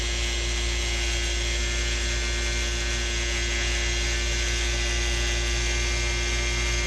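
A CNC needle cutter cutting a full sheet gives a steady, loud mechanical buzz and hum with a fine rapid pulsing that stays unbroken throughout, heard alone.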